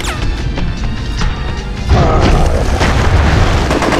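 A rocket explosion in the Hulk 2003 video game, a heavy booming crash that swells about halfway through into a sustained rumbling roar over ongoing game noise.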